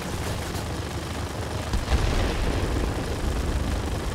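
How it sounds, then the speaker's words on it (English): Rapid gunfire and explosive blasts from aerial combat in World of Warplanes, a dense continuous rumbling roar that swells louder midway, with no talk over it. "Let's see if we can actually make this go any faster with just straight-up machine gun fire."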